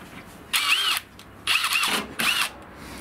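A power tool whirs in three short bursts as it undoes bolts on a Pajero rear door, each burst loud and close with a rising and falling whine and quiet pauses between.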